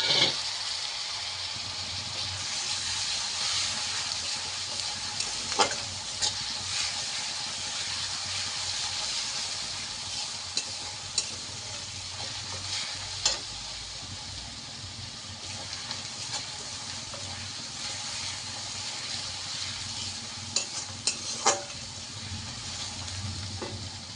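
Onion paste fries in hot oil with a constant loud sizzling hiss, punctuated by scattered clicks and scrapes of stirring, close up and without talk.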